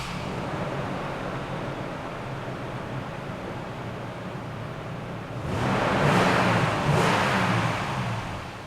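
A 2009 Toyota Tacoma 4x4 TRD with a 4-litre V6 idles with a steady rumble, then revs up in two swelling bursts near the end.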